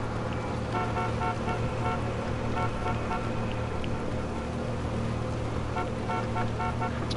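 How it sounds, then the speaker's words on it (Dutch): A car horn in a PS4 video game, tooting in short repeated bursts over a steady engine and traffic rumble, loud and continuous with no talk. "Lekker toeteren."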